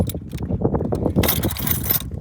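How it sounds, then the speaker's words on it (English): Ignition keys of a 1980 BMW R100RS 980cc motorcycle jangling close by, a cluster of light metallic rattles and clinks in short bursts, louder and brighter toward the end. "Ignition keys down here"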